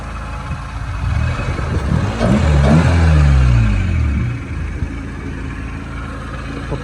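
A Honda Civic's K24 engine idles roughly with a clattery, uneven rumble, swelling briefly in the middle before settling back to a steady low drone.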